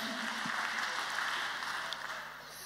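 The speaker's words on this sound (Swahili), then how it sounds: "Lakini tuwapigie makofi, let us celebrate them." A congregation claps together during a live Kikuyu church service, a steady, dense round of applause lasting a few seconds with no voices over it.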